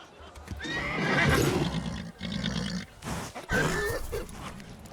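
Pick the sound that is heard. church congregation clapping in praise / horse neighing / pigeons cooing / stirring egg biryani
horse neighing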